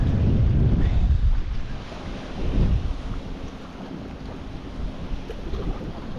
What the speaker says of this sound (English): this wind is blowing hard enough to kind of push me that way instead of going with the current